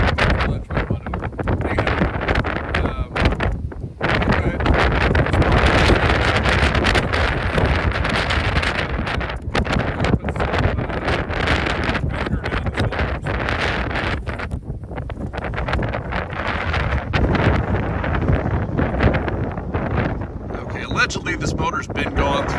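Wind buffets the microphone outdoors, a steady loud roar of rushing air and rumble that hardly lets up across the whole stretch, with a brief dip early on.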